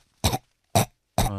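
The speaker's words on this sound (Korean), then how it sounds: "이런 대상자는 이런 기침을 하게 됩니다." A person demonstrates the cough of someone partially choking on a blocked airway: three short, forceful coughs spaced evenly apart, close and loud with nothing else heard.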